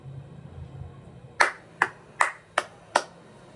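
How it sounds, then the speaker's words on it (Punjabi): Five sharp, evenly spaced hand claps ring out close and alone after a quiet stretch of faint background noise. "ਤਾੜੀਆਂ, ਪ੍ਰੀਤ ਤੇਰੇ ਵਾਸਤੇ ਆ"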